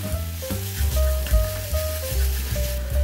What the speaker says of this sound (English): Stir fry the kimchi for a few minutes.